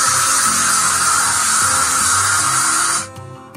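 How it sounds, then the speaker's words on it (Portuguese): Lisoform surface disinfectant spray hisses in one long continuous loud burst for about three seconds, close up, then cuts off abruptly into quiet room sound. "E eu comprei esse spray aqui, ó, de lisoform desinfetante pra superfícies."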